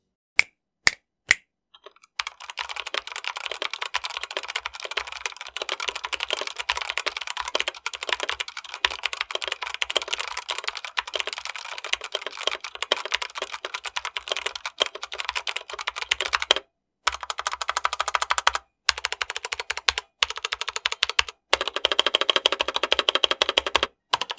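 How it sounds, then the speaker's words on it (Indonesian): A Digital Alliance Meca Air S mechanical keyboard with Otemu Brown switches is typed on at close range: a few separate keystrokes, then a steady, fast clatter of keys with brief pauses toward the end. "Untuk unit yang gue terima ini menggunakan Otemu Brown, dan biar nggak penasaran kayaknya langsung aja gue kasih typing soundnya dulu ya."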